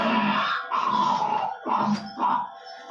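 A man imitates a dog's barking with his voice, giving several rough, growly bark-like bursts with short gaps between them, loud and close, heard alone.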